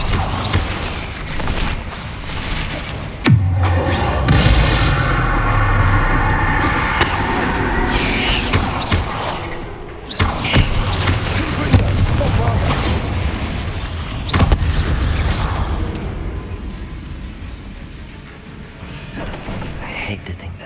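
Bombarda spells go off in Hogwarts Legacy, landing as several heavy booming blasts spread across the stretch, each followed by rumbling debris and crackle, with loud combat noise filling the gaps between.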